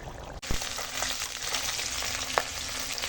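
A catla fish head frying in hot oil, a steady close crackling sizzle with a sharp pop or two as it cooks.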